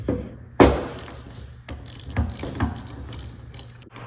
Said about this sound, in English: grab your 17 metric socket, and you can take off this nut here